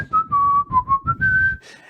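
A voice imitates someone whistling a short, wandering tune, a few clear sustained notes sliding up and down over about two seconds, close and alone.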